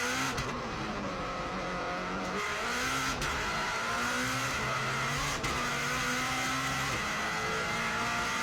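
A Subaru Impreza races at speed around the Isle of Man course, its engine loud and unbroken from the onboard position, with a few sharp gear-change breaks and rising pitch as it accelerates through a tight right-hand corner.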